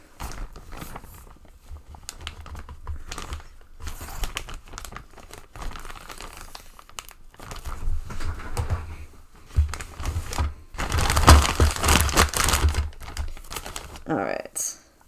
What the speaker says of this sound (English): since this is a scale I actually use for food, it goes in a Ziploc.